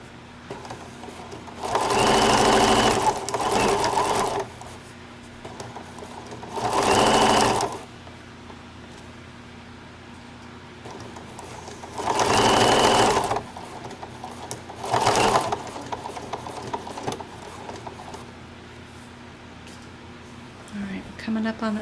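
A sewing machine adds extra stitches on the handles of a tote made from a placemat, whirring in four short close bursts while a person talks between and over the runs.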